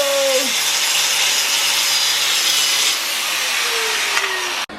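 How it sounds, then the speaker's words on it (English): An angle grinder grinds down a link of the chain on a Yamaha R1M motorcycle, a steady harsh whine with high hiss that runs loud and close for several seconds before cutting off abruptly. "we're gonna grind this link right here, and then we're gonna add a link out here"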